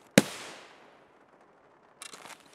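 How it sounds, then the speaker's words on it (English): A frag grenade in Escape From Tarkov goes off with one sharp, loud blast whose rumble tails away, followed by a short crackle of distant noise. "Enemy frag!"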